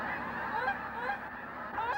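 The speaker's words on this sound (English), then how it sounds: "she can talk to the geese" Geese on the banks of the Chesapeake honk continuously, many overlapping calls blending into a steady, moderately distant chorus with no pauses.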